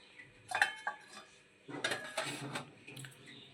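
A lid comes off a pot of cooking kheer semai with a sharp metallic clink, then a longer rattling clatter of metal against metal, close and fairly quiet.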